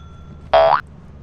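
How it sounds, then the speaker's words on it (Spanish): A single short bell-like chime sounds in the video game Lethal Company, a bright tonal hit of under half a second, clear and alone against a quiet background. "Tenés que tocar el timbre, Pato, dale."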